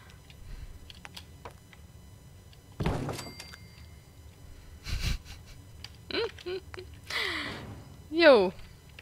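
In the video game Fallout 4, a door is placed during base building: a sharp clunk, then a second heavy thud a couple of seconds later, followed by short synthetic chirps and voice-like sounds over a low background hum.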